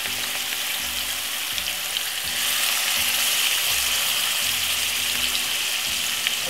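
Pork pieces sizzle and crackle in hot oil over medium heat on a stove, a steady hiss with occasional louder pops and low clunks of the pan running throughout.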